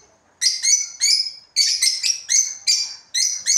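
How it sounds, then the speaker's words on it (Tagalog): Young lovebird chicks chirping in a rapid series of bright, high, close calls, with about ten bursts coming in quick, uneven succession and no talk. "Yan yung inakay mga lovebirds."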